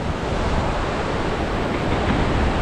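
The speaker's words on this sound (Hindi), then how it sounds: "करेंट बहुत ज़्यादा है पानी में।" A fast river with a strong current rushes past near Badrinath, a loud, dense, continuous roar of churning water filling the whole stretch with no voices.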